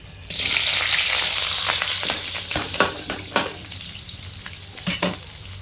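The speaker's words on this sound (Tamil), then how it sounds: "இப்போ வந்து கூட நம்ம இந்த 2 வரமிளகா, 2 பச்சை மிளகா, அப்புறம் பெரிய வெங்காயம், கருவேப்பிலை, இது எல்லாத்தையும் போட்டுக்கலாம்" Mustard seeds, dried and green chillies, onion and curry leaves hit hot oil in a loud, steady sizzle for a lemon rice tempering, with crackling pops and stirring scrapes scattered through as it eases slightly.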